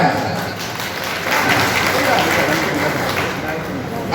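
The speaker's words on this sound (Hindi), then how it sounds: "जोरदार ताली बजा के इनका स्वागत करिए" A crowd at a political gathering in India applauds, a continuous broad roar of clapping that holds steady throughout, fairly loud, with speech mixed in underneath.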